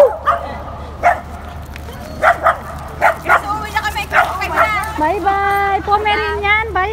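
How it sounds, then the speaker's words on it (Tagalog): Several dogs, including a Pomeranian, bark and yip in quick bursts while fighting, then break into whining, squealing yelps; a steady low hum sits underneath. "Nagkarambula na yung aso"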